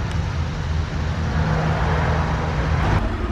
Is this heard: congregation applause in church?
no